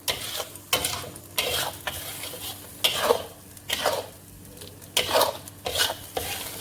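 Ridge gourd thuvaiyal being stirred in a pan: a spoon scrapes and slaps against the metal in repeated strokes about once a second, with faint sizzling in between.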